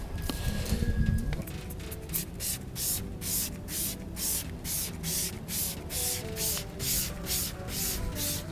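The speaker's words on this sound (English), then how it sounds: "We've got Power Max valeting spray this time." Power Max valeting spray hisses onto dirty alloy wheels in a series of about a dozen short, evenly spaced bursts, close and fairly loud, with a brief handling knock at the start and no talking.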